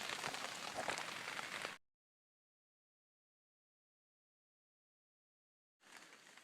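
Steady hiss of rain falling outside at night in Maine, loud and close, broken by a long stretch of silence before the downpour sound resumes.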